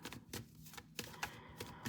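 Crisp bursts of cards being shuffled, several quick riffles and snaps in a row, close by with no talking.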